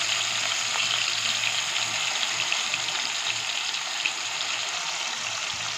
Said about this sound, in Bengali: আমি একটু হালকা করে একটু ভেজে নেব।